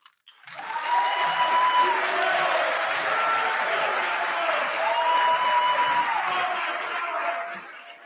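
Sustained applause from a graduation audience at a college orientation workshop, rising quickly and holding steady for several seconds, with some cheering and chatter mixed into the clapping.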